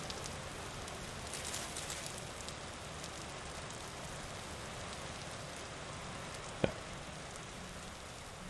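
Light rain in the Vintage Story video game, a soft, even patter that continues without a break and stays faint, with one sharp tick near the end.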